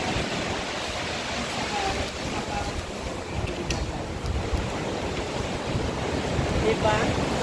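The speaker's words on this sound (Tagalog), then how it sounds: "Ayan, ang alon, no? Pag pumapasok ganyan siya. So, parang thunder." Sea waves surge into a coastal cave at Cape D'Aguilar Marine Reserve, a dense, continuous roaring wash with thunder-like rumble, buffeted by wind noise on the microphone.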